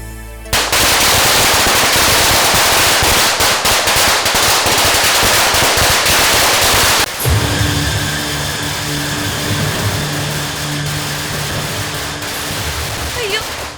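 A string of firecrackers set off early at a Christmas star raising bursts in a dense, deafening machine-gun crackle for several seconds and then cuts off. Quieter tonal sounds and voices follow.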